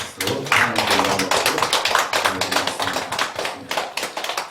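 A church congregation claps together in a lively burst of applause during a Sunday service, dense overlapping hand claps that keep going at a steady strength.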